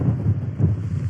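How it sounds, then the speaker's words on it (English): Strong wind gusts buffet a tent pitched in the shelter of a rock at a campsite, a low, steady roar with rumbling microphone buffeting and no voices. "Because the wind is blowing southwest, it's coming from up there."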